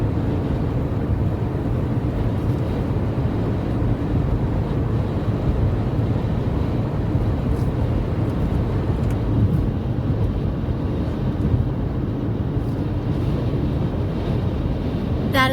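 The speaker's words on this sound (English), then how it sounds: "I was going to show you guys how hard the wind was blowing." Strong gusty wind buffets the microphone with a constant deep rumble and roar, steady and loud throughout with no voices.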